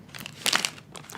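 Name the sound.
tearing sound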